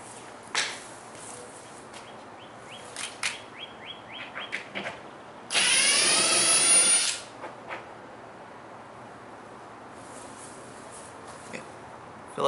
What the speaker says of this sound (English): bust out the screw gun,